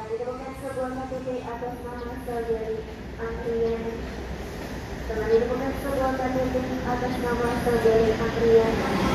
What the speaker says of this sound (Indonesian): Nah ini kayaknya rangkaian kereta